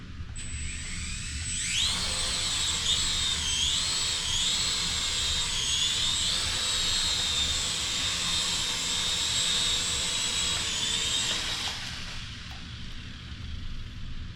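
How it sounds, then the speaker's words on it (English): A small toy helicopter starts up with a high, steady electric whine that holds for about ten seconds before cutting off, close and loud in a room with faint background hum. "Helicopter's good to go."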